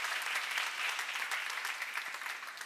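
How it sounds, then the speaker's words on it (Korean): Crowd applause at a church seminar, a steady wash of many hands clapping for under three seconds, slightly fading toward the end. "박수 한번 주세요."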